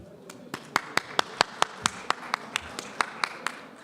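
Scattered applause from a conference audience, a dozen or so sharp, evenly spaced claps from a few people rather than a full ovation, moderately close with faint room murmur underneath.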